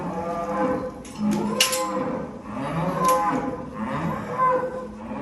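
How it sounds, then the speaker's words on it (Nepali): Cows on a cow farm moo in long, drawn-out lows, a few calls overlapping at moderate distance with no talking. "यो गाई गोरु पनि हेर्नु"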